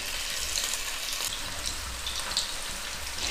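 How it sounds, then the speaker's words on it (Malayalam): Meatballs fry in hot sunflower oil over a medium flame, giving a steady, dense hiss and crackle with scattered pops and no voices. "ഓയിൽ നന്നായിട്ട് ചൂടായി വരുമ്പോഴത്തേക്കും നമുക്ക് ഈ തയ്യാറാക്കി വെച്ചിരിക്കുന്ന ഈ ഓരോ ബോൾസും ഇട്ട് വറുത്തെടുക്കാം."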